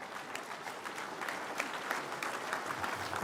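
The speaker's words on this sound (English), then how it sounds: "How about a round of applause for..." Audience at a joint legislative presentation by a veterans' organization breaking into applause, an even spread of many hands clapping at moderate level with faint crowd murmur underneath.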